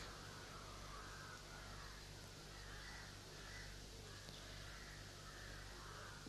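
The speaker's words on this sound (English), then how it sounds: "the crows should stop their noise" Crows caw repeatedly in a steady series of calls, fairly distant, over a constant low hum and background noise outdoors at a gathering in Alibag, Maharashtra.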